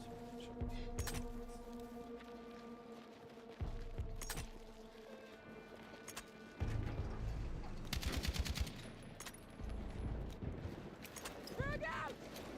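Gunfire in a video game, with scattered shots and short automatic bursts at moderate distance, heard beneath ongoing talk and game sounds.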